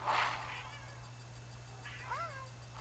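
A cat gives two short, high meows, one near the start and one near the end, over a quiet, steady background hum.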